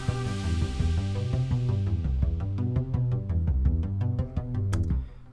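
A Micropulse synth in GarageBand plays a Stranger Things style part: a steady pulsing bass arpeggio repeats in even rhythm while bright plucked tones tick on top, continuous and close with no voices.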